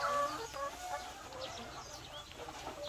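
Laying hens, seven months into lay, cluck softly in short scattered calls, faint and somewhat distant against a low background hum.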